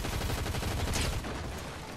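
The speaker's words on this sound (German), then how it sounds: "Von irgendwo werde ich angeschossen, ich habe keine Ahnung." Rapid Fortnite gunfire rattles in dense, continuous bursts for the full two seconds, loud and close with no talk over it.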